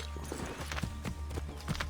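Horse hooves clip-clop at a steady walking rhythm in Assassin's Creed 3, close and moderately loud over a constant low game ambience, with a faint whinny-like tone near the end.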